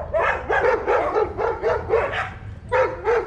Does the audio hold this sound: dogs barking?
yes